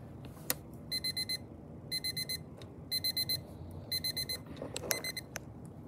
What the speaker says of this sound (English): Well, the alarm is the chime.